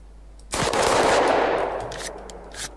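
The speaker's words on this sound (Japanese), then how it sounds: "銃声しかしでけえな。" Loud bursts of rapid gunfire in the zombie survival game Totally Accurate Battle Zombielator, a sustained volley that trails off into scattered later shots.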